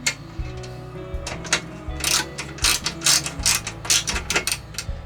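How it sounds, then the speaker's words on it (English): A nut being tightened on a boat hose fitting, heard as close, rapid clicking and ratcheting strokes in an irregular rhythm over a low background hum. "Let's get this nut on quickly."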